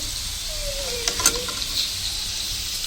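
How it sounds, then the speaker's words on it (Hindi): Papad frying in hot oil in a home kitchen, a quiet, steady sizzle with a few light crackles and pops near the middle. "आज जो है ना फिर से हमने फ्राई कर लिए हैं पापड़"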